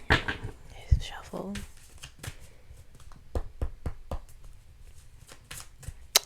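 Cards shuffled by hand during a tarot-style reading, giving quick, close rustling flicks and snaps scattered across the stretch, with a soft voice speaking near the start.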